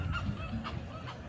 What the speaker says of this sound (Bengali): কোনো পাখির ডাক মনে হয়।